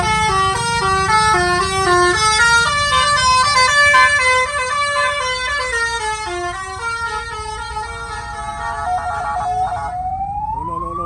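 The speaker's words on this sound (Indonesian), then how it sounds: "Waduh, ini ambulan pisan." A loud ambulance siren wails continuously beside a vehicle horn in Malang, Indonesia, rising and falling over steady traffic rumble, close by and dominating the scene.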